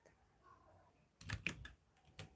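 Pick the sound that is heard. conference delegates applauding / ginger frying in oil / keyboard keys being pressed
keyboard keys being pressed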